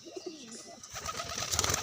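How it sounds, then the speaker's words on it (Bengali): Native domestic pigeons coo on a rooftop, giving a short burst of soft, low, throaty cooing followed by scattered chattering and rustling, close by and fairly quiet. "এই হচ্ছে আমার কবুতরগুলো"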